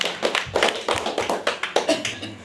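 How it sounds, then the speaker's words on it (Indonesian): A small crowd claps in a steady, even rhythm for the village head at a neighbourhood RT 03 election evening in Ua village, Mauponggo, with about ten close, sharp claps in quick succession. "Tepuk tangan buat Bapak Desa"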